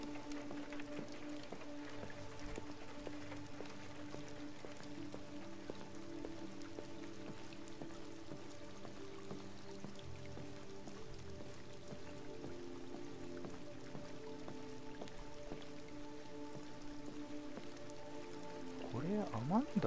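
Rain falls steadily in the video game Detroit: Become Human, a continuous soft patter under sustained tonal background sounds that run for the whole stretch.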